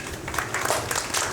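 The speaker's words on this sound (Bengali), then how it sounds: "আমার এই ভাই বোনদেরকে একটা জোরে হাততালি হয়ে যায়" Audience at the Bongo Sreshto Somman ceremony gives a sustained round of applause, a dense, steady wash of clapping lasting the whole moment at even loudness.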